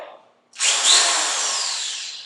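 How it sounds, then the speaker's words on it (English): A brief sound, then a power drill with a small bit spins up and runs steadily at high speed drilling pilot holes for handmade tap shoes, close and loud, for about two seconds. "I am going to drill pilot holes first"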